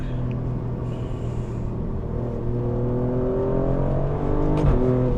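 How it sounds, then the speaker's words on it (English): The rumbling exhaust of a 2024 Alfa Romeo Stelvio Quadrifoglio drones steadily nearby, then climbs in pitch as the engine revs, with a quick shift-like break near the end. "you can hear that exhaust just vibrating"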